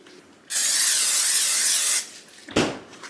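A steady hissing spray lasts about a second and a half, close and loud, followed by a brief clunk.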